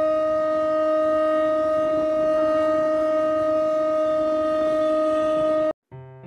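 The clock-tower siren above the entrance of the Cuttack Maritime Museum, sounding at ten o'clock: one long, steady, loud tonal wail held for nearly six seconds before it abruptly cuts off.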